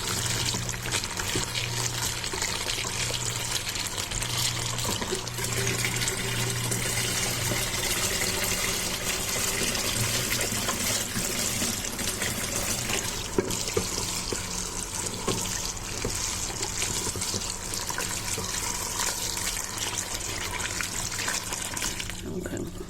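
Collard greens are rinsed under a running kitchen tap. Water splashes steadily and loudly into the sink for the whole stretch, with no clear voice above the flow.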